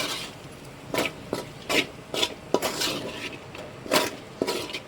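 A spoon scrapes and knocks in a pan as grated coconut is stirred into okra thoran, with irregular soft scraping strokes and light metallic taps, moderately near.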